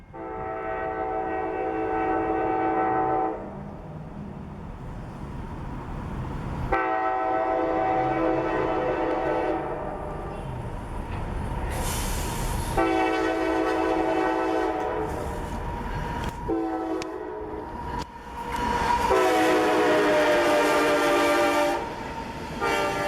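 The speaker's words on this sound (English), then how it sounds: "I know that's grain train for Comer." A CSX freight grain train passes along the Abbeville line, its loud horn sounding in long blasts separated by short pauses over steady rumbling and rail noise, close and continuous throughout.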